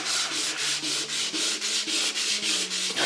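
Hand sanding on a stained oak floor, rapid rhythmic back-and-forth rubbing strokes, about four per second, close and steady with no talk.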